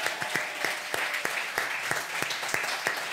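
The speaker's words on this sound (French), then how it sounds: "On peut l'applaudir?" Audience applause after a comic sketch at a live stage comedy show, a dense steady patter of many hands clapping at once, close and even, with no voices over it.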